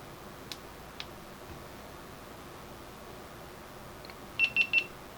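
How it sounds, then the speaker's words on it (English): A GoPro camera gives three quick, close electronic beeps in a row as recording begins, after a couple of faint clicks from the button press against a quiet room hiss. "It beeps, and as you can see, it started recording."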